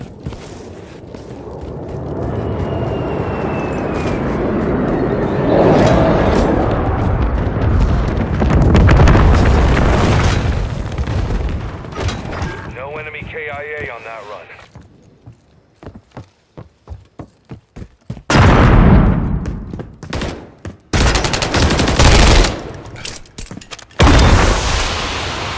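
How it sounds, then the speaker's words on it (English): Explosions from an aircraft bombing run in Call of Duty: Modern Warfare III, a long rumbling barrage of loud blasts and debris that fades out, followed by scattered sharp booms and bursts of gunfire. "Vulture 6-1, inbound for bombing run."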